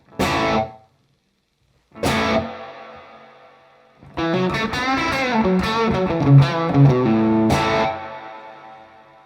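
Distorted electric guitar through a Valeton GP-5 drenched in large plate reverb: two short struck chords, then a sustained chordal passage and a final strum, each ringing out into a smooth tail.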